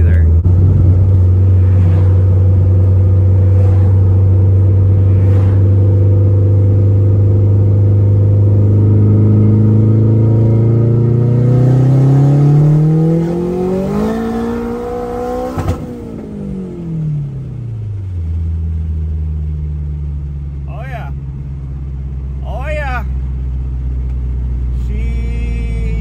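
Turbocharged Honda K24 car engine revving up through the gears from inside the cabin, a loud rising drone that climbs and peaks before dropping off to a lower cruise hum, with brief talk near the end.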